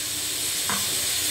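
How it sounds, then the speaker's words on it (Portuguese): Tomatoes and a finely chopped whole onion sautéing in olive oil in a pot, a steady close sizzle and hiss with a brief stirring scrape midway. "isso está sendo refogado no azeite"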